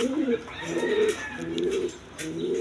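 Kaldam pigeons coo in a pair: several short, throaty coo phrases repeat closely one after another at moderate loudness, with no speech.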